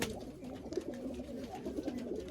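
Malwai pigeons, Punjabi Malwai birds offered for sale near Dhamua station, coo softly and steadily in a close, continuous murmur of overlapping calls with no talk.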